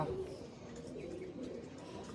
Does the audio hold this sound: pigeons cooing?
yes